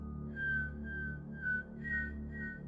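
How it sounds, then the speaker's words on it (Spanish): A faint, thin whistled tune drifts in short wavering notes over a low steady hum, sounding distant and eerie. "Aún podía escuchar el silbido, y estaba más cerca ahora."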